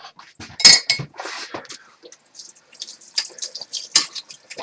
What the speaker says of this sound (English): Rinse off that spoon.